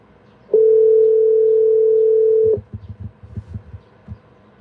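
A steady telephone tone holds for about two seconds while a call is being placed, loud and close, then stops and gives way to soft low knocks and handling noise.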